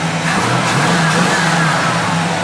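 A 1967 Pontiac GTO's 400 V8 runs loud and close on fast idle, a throaty, steady rumble with a slight rising rev.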